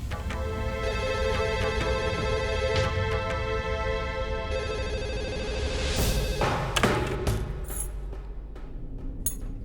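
A landline telephone rings repeatedly in a home, its bright electronic tone pulsing steadily at moderate level, then giving way to a few clinking, rattling handling noises near the end.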